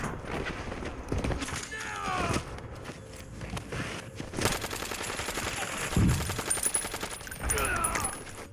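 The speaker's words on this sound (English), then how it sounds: "Because the gunshots are quieter, if someone comes to my left while I'm shooting someone in front of me, I will hear them." Gunfire in Warzone, rapid automatic bursts and single shots at moderate volume, mixed with footsteps and shifting game sounds throughout.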